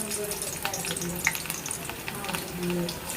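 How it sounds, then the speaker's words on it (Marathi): Steady sizzling of a tempering frying in hot oil in a wok for fenugreek greens, with faint stirring clinks and a low background hum; no voices. "कढईमध्ये आता मी आपल्याला मेथीची भाजी द्यायची फोडणीला"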